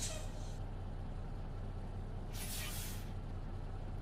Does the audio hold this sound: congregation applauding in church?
no